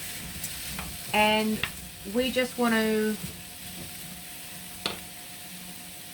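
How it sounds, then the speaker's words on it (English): A steady, soft sizzle of apples frying in a non-stick pan runs throughout while a person talks over it. "fry them like this for around about 7 minutes until they get a little bit soft"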